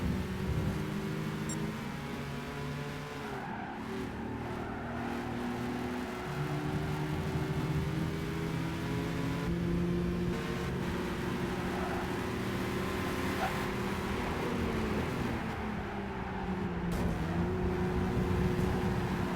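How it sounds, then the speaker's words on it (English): Pickup truck with upgraded exhaust in Gran Turismo 5, a steady droning engine note rising and falling through gear changes, continuous at moderate level with no talk. "this car is literally the worst exhaust sound I've ever heard in my life."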